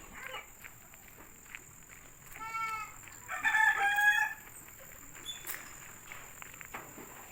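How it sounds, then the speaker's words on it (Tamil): Chickens foraging on a goat farm in Malaysia: a rooster crows clearly at mid-distance, with scattered clucks, light footsteps and steady outdoor ambience around it. "பாருங்கள் எவ்வளோ கோழி கீழே மேய்ஞ்சிக்கிட்டு இருக்குதுன்னு."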